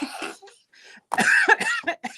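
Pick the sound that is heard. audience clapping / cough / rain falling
cough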